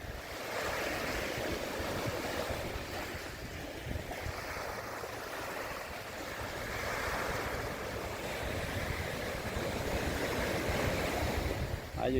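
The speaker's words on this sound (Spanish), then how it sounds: "El mar sigue muy tranquilito, como se puede apreciar." Calm sea waves rolling onto Playa Fundadores beach in Playa del Carmen on an early morning, a steady soft wash of surf with some wind rumble, continuous and fairly close, without voices.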